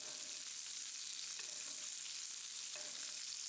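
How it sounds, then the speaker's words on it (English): Chicken breast frying in a pan while hot butter is spooned over it, a soft continuous sizzle with faint scrapes and spoon clinks now and then. "You want that butter to be hot and sizzling as you keep spooning"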